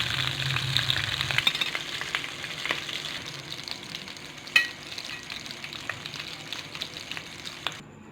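Aloo tikki potato patties made with besan sizzle and spatter steadily in hot oil, a close, continuous crackling fry with occasional sharper pops and no voices.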